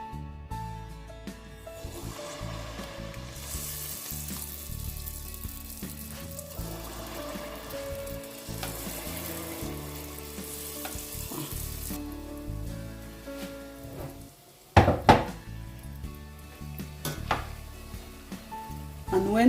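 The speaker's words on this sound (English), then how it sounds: "My oil is hot and I'm going to start frying." Steady, loud sizzling of Cameroonian puff-puff dough frying in hot oil, with a few clatters and stirring sounds partway through.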